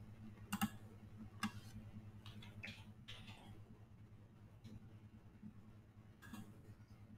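Faint, sparse keystrokes on a computer keyboard, a few sharp clicks in irregular bursts over a low steady hum in a quiet room.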